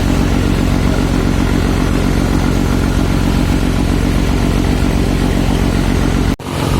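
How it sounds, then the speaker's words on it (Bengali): A river launch on the route from Dhaka, running on just one engine, gives off a loud, steady, unbroken engine drone that fills the whole stretch with no voices, ending with a brief dip. "এই মুহূর্তে আমাদের লঞ্চ এক ইঞ্জিন দিয়ে চালাচ্ছে।"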